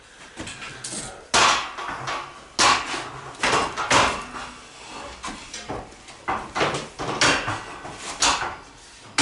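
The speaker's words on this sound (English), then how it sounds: "Trap door." A wooden trap door on a piece being assembled is handled, giving a series of sharp knocks and clunks at irregular intervals, close and fairly loud, with no talk.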